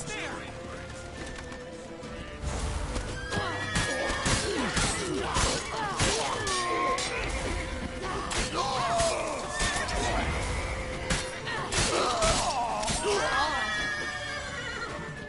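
Horse neighs and whinnies ring out in The Witcher 3 video game, layered over a dense, loud action scene with crashes and shouted voices, with no clear hoofbeats standing out.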